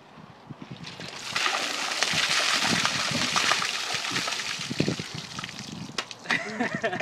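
Ice water from a bucket dumped over a man outdoors, a sudden broad rushing splash and slosh lasting several seconds, followed by scattered drips and movement with faint voices nearby.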